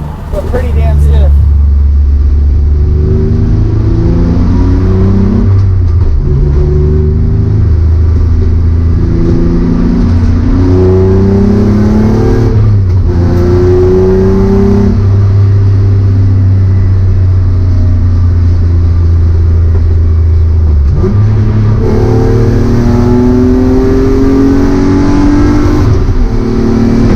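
BMW E36 M3 with an S52 engine and Supersprint and Dinan exhaust, revving loudly and steadily for the whole stretch with rising and falling throttle sweeps, deep harmonic exhaust tone close by.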